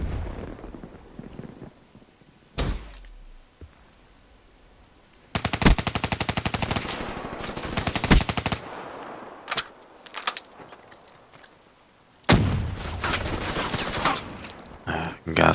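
Rapid automatic gunfire from a first-person shooter video game, loud bursts that start and stop abruptly, with long sustained volleys and single shots between quieter gaps.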